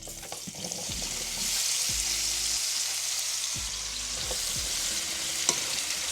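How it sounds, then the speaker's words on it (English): Baby bella mushrooms sauté in a butter and oil mixture in a skillet, a steady close sizzle with occasional scraping stirs and clanks of the utensil against the pan. "We're gonna let these mushrooms saute for a little bit and we will be back."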